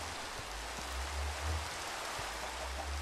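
Steady rain in a survival crafting video game, a soft continuous hiss of falling drops at low level with no talking.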